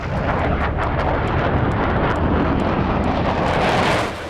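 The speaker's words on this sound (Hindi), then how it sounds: "चीन ने अपने चेंगडू J-20 लड़ाकू विमान लाए" A Chengdu J-20 fighter jet roars loud and close, a continuous heavy rushing thunder that holds steady and then drops off slightly at the very end.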